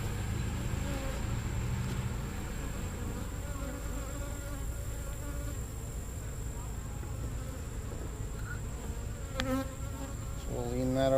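Honeybees swarm around an open, propolis-heavy beehive, producing a dense, continuous buzz close by, with a few louder individual passes and a person murmuring faintly in the background.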